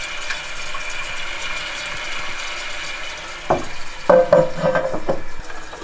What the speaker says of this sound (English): Big flush or little flush?